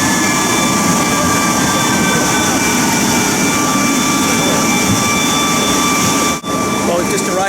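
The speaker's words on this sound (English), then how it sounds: "We just had an IL-62-885 arrive, taxi onto position." Ilyushin IL-62 jet airliner taxiing at Pyongyang airport, a loud continuous jet engine roar with steady high whining tones, close and unbroken for the whole stretch.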